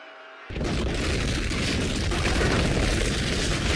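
A trap explodes with a sudden loud boom after a quiet moment, then becomes a dense, sustained roar of rumble and crackle that does not fade.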